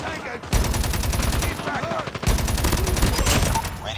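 Rapid automatic gunfire from an AS Val rifle in Call of Duty Mobile rattles in two loud, sustained bursts with a short gap between them, close and dense, with the game's other sounds beneath.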